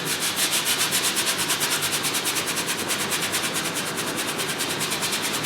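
A brush scrubs paint onto canvas in fast, rhythmic back-and-forth strokes, a close, steady rasping rub with no talking.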